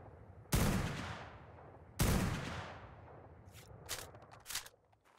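Two powerful, booming gunshots fire about a second and a half apart in the video game Ark: Survival Evolved, each trailing off in a long echo. Fainter mechanical clicks and rattles follow.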